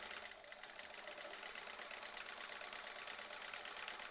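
A sewing machine runs steadily, stitching an embroidery design, its fast even buzz filling the clip from start to finish with no voices.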